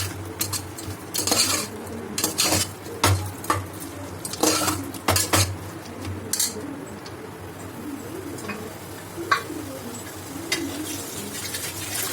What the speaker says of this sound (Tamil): இது கொஞ்ச நேரம் நல்லா வதக்கணும்.